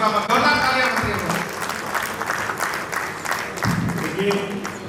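Audience applause at a Rotary district governor installation ceremony, steady dense clapping from a crowd lasting throughout, with some voices mixed in beneath it.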